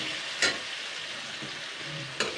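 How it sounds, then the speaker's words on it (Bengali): Ground spice paste sautés on medium heat in a pan, giving a soft steady sizzle broken by two sharp stirring scrapes. "এবার এটাকে দিয়ে সুন্দর করে কষাবো 2 থেকে 3 মিনিট"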